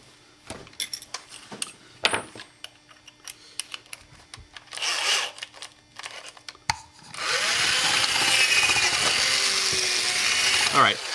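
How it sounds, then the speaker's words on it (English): Power drill on a DIY microphone spider mount project, first scattered handling clicks and short bursts, then a loud sustained whirring run through the latter half, close up. "I need a different drill. I'm getting a drill from over here."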